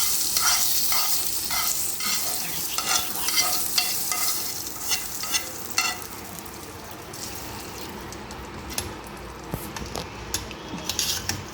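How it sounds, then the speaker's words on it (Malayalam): Mustard seeds spluttering in hot oil while tempering for a brinjal curry, a steady sizzle with quick popping crackles that thin out over the second half, with a few light utensil clinks. "എന്നിട്ട് കടുക് പൊട്ടിച്ച് ഇതിലേക്ക് ഇട്ട് കൊടുക്കാം."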